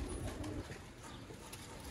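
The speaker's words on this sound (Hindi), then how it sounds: "नायाब तरीन दोस्तों सियालकोटी कबूतर" Sialkoti pigeons coo softly in low, murmuring throaty notes, faint and fairly distant, with no one talking.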